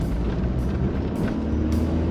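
A Honda Accord Cielo SV4 sedan pulls hard from second gear, a loud, continuous low engine roar with rumbling road and wind noise heard from inside the car.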